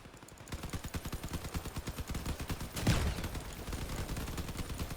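Machine guns in an engineers shooter game hammer out a steady, fast stream of rounds from start to finish, and a louder blast lands midway through the continuous rattle.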